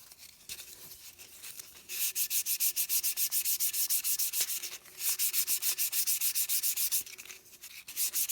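Sandpaper rubbed over a painted seam on a Loadstar II model assembly, a close, rhythmic rasping with rapid back-and-forth strokes in two long bursts, separated by brief quieter pauses.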